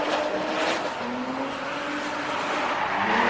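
A drift car at a grassroots drifting competition holds the throttle through a transition, its engine roaring loud and steady amid broadband tire noise and a slowly rising pitch.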